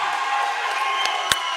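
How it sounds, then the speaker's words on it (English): A crowd at an amateur boxing match cheers and shouts, a steady broad roar with a sharp clap near the end. "It looks like he's getting the crowd hyped up."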